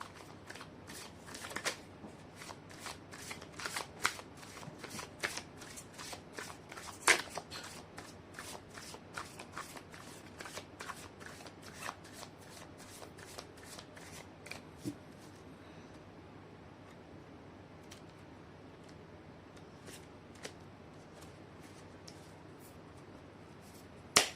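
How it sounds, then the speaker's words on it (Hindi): Tarot cards are shuffled by hand in a quiet room, a long run of crisp rapid riffling and snapping card flicks at close range, continuing steadily and alone with no talk. "कर लेती हूँ कार्ड की शफलिंग।"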